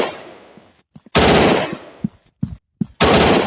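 Bursts of automatic gunfire from a shooting video game such as PUBG or GTA 5, loud and close, with long sustained volleys and several short single shots between them.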